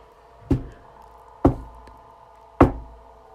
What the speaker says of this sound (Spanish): escuchó que tocaban la puerta fuertemente